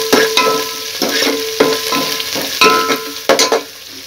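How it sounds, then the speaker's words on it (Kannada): Washed fenugreek leaves sizzle and crackle in hot oil, loud and close, with repeated scraping stirs of a spoon in the pan and no talking. "ಸ್ವಲ್ಪ ಅದು ಎಣ್ಣೆಯಲ್ಲೇ ಫ್ರೈ ಆಗಬೇಕು."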